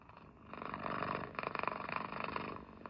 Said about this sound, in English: What is this cat saying?